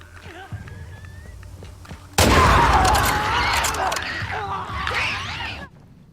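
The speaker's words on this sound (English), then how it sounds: "let's waste some bullets" Gunfire erupts in The Last of Us Part 2, a sudden loud burst of rapid shots and impacts that rings on for a few seconds before cutting off, with a quieter voice-like murmur before it.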